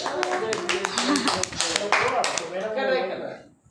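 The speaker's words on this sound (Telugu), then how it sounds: "clap clap clap clap clap" Children clap in a small group, a ragged run of sharp hand claps mixed with a voice talking over them, the claps tapering off into quiet at the end.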